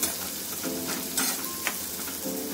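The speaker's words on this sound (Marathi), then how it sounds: "मस्त ठेचून लसूण टाका आणि कांदा चांगला थोडा फ्राय व्हायला पाहिजे" Crushed garlic and onion fry in a pan for a Maharashtrian dry vegetable dish with raw mango, giving a steady close sizzle with brief scraping stirs and a few louder crackles, with no voices.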